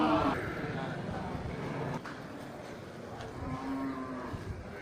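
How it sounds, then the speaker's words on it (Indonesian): Several deep moos from a muzzled Blestr bull at a cattle market, with a long low call at the start and fainter lowing later, heard over background chatter and crowd noise. "sapi jantan berangus ya"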